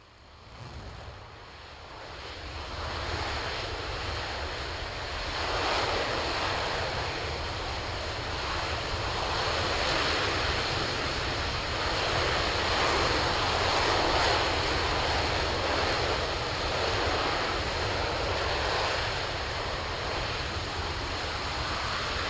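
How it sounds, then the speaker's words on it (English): An RS-25 rocket engine roars through a hot fire test, a sustained, powerful broadband rumble that swells up within the first few seconds and then holds steady and loud, heard from a distance with no voices. "So this was the 5th hot fire test since last December."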